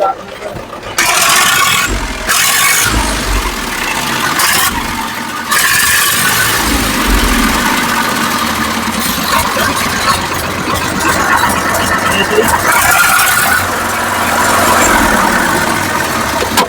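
A tractor engine runs at a steady idle near the microphone, its low rumble continuous, with a few short louder bursts and interruptions early on.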